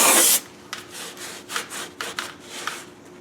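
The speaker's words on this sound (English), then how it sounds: "Clean this up with some brake cleaner." A short loud hiss of brake cleaner spray on a third-generation Camaro/Firebird's idler arm area, followed by rhythmic rubbing and scrubbing strokes at close range, with no speech.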